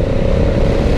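A motorcycle engine is blipped on the throttle while riding, giving a loud, steady low rumble that fills the whole second without a break.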